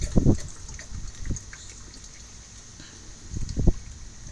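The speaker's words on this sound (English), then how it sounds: "Squeeze it and pour it out." Liquid glugs and splashes out of a squeezed bottle in a few short bursts, with a pause of quiet trickling between the opening pours and a final gush near the end.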